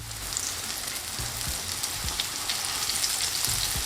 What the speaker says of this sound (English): the fish goes into the hot oil, skin side down